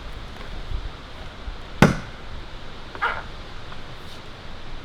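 An axe chops into a black ash tree trunk outdoors, with one sharp, loud strike and a weaker second blow a second later, then faint outdoor ambience.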